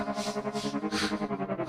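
An electric synth with fast tremolo pulsing in 16th notes runs through a distortion effect, producing a gritty, rapidly throbbing tone that is loud and alone.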